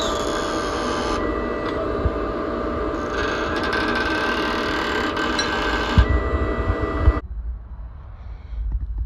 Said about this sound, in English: So I used my iron worker to punch the correct size square holes for the 5/16 carriage bolts